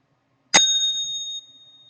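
A bright notification bell dings once, sharp and loud, its clear ringing tone sustaining for about a second before cutting off, heard alone.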